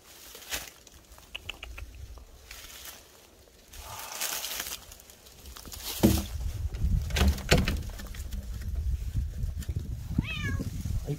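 A stray cat following someone around an abandoned mountain-village house gives a few short meows amid footsteps, rustling and handling noises, fairly close, with no talk.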